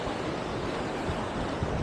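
Sea waves breaking on a rocky shore at Pagudpud, Ilocos Norte, near Bantay Abot Cave, making a steady, loud wash of surf with wind noise throughout.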